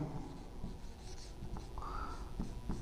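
Hand-writing an equation during a maths class, soft scratchy pen or chalk strokes with light taps, close and faint over a low background hum.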